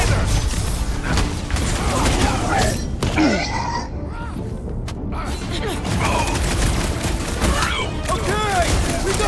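Sniper gunfire rings out in the Guardians of the Galaxy video game, a dense stream of shots and blasts under game music and effects, with character voices talking over the fight.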